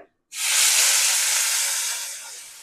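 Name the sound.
bitter gourd frying in hot oil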